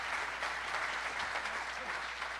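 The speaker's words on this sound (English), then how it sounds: "So big applause, round of applause for them." An audience at a yacht club skipper's meeting for the Race to Mackinac applauds steadily, with many hands clapping in an even, fairly distant wash that lasts the whole moment.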